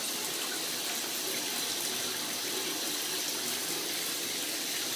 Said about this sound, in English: Yeah, have a shower.